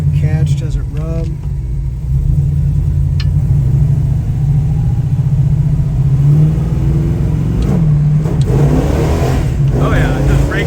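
A 1973 Plymouth Cuda's engine drones loud and steady from close by as the car pulls through the gears, with shifts and rising revs breaking the constant low rumble; a few voices are heard over it.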